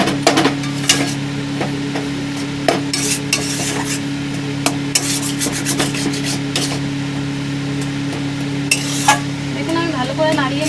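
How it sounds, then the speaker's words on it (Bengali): Potato mixture with ginger, garlic and onion stirred in a pan, rhythmic scraping and rubbing strokes close up over a steady low hum, no talking. "দিয়ে একটু ভালো করে নাড়িয়ে নেব"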